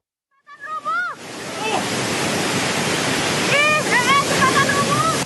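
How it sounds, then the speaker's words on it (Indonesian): Floodwater of the overflowing Cikaret river rushing through a neighbourhood in Bogor, West Java, a loud steady roar of churning water that fills the scene; a few chirping calls rise briefly over it near the start and again later. "Inilah luapan air Sungai Cikaret di Kelurahan Pasir Jaya, Kota Bogor, Jawa Barat."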